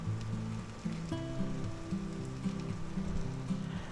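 A ham, egg and cheese quesadilla made with 6-inch corn tortillas cooks under a lid in a pan, giving a steady soft sizzle with low tonal hum throughout, alone and without talk.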